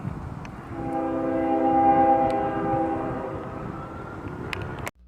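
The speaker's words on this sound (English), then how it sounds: "Oh, but the train is coming. See, you may not see it, but you hear it." A train approaching and rumbling past, its horn sounding a long sustained chord over the rolling noise, ending abruptly.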